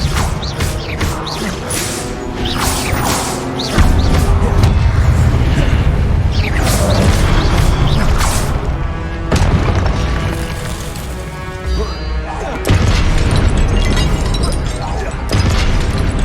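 Spell blasts and impacts in the Hogwarts Legacy video game during Rackham's Trial: repeated loud booming bursts and crashes, some sharp and some rumbling, over a constant game background, with a voice shouting spell names between them.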